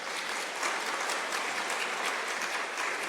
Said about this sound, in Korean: 수고한다고 박수를 한번 해주면 좋을 것 같아요